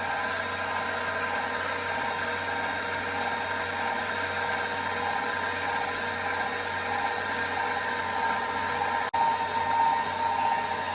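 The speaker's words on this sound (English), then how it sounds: "Allow the dough hook to pick up all of the wet ingredients into the flour" A stand mixer with a dough hook kneads wet babka dough into flour, giving a steady, loud mechanical whir and grinding motor drone that runs continuously close by, with one brief dip near the end.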